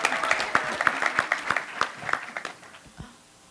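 Applause for Whitney Agee at a real-estate top producers panel in Boston: a small audience's brisk, uneven clapping, individual claps distinct and close, tapering off toward the end.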